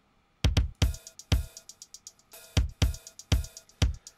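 A randomly triggered hi-hat pattern with delay in VCV Rack plays as sharp, bright ticks in uneven bursts, each hit trailed by quieter echoing repeats, alone and fairly soft.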